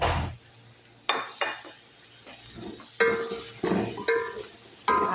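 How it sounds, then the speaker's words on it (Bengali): Fish frying in a pan with mixed spices and no chili, stirred with repeated sharp scrapes and clinks of a utensil against the pan over a constant close sizzle. "এবার একটু নাড়াচাড়া করতেছি, ঝাল ছাড়াই রান্না করতেছি"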